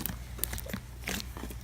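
Crunchy slime is poked and broken up, giving a string of small, close crackling and crunching snaps in irregular bursts.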